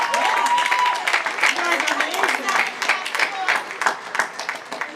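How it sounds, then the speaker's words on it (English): A crowd at the Berkeley Institute graduation ceremony applauds with sustained, dense clapping, while a voice speaks briefly over the start. "Let's give them another round of applause."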